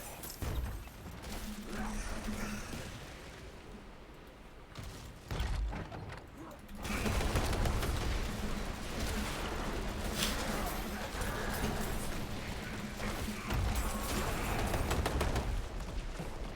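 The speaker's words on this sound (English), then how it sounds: "that explosion move that happens with the trample" Druid Trample explosion in the Diablo 4 game: loud, dense bursts of booming impacts and crashing debris, with a quieter stretch early on and then a sustained heavy rumble of blasts, under faint talk.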